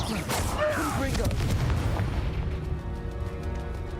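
A fiery Confringo spell blast goes off in a spell battle in Hogwarts Legacy, a loud booming explosion with a rushing swirl, then a rumbling fade.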